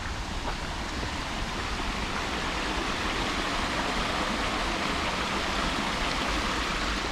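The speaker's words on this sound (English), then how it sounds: "And that's the Delaware River. Waterfall." A waterfall on the Delaware River along the Appalachian Trail rushes with a constant, even hiss of falling water, moderately loud and unbroken throughout.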